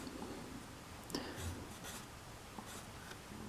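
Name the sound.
sketching parallel lines with a pencil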